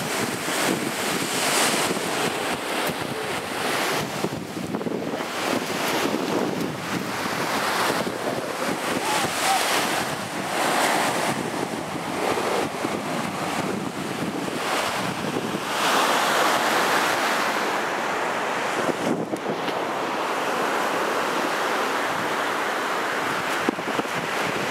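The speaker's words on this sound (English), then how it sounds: "I gotta get some recording up on the balcony so we can get the actual ocean in, not just the waves." Ocean waves wash continuously onto a beach, a steady roaring surf with swelling rushes and heavy wind buffeting the microphone, no voices present.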